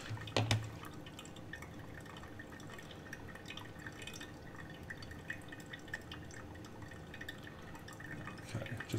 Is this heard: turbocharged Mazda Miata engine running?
no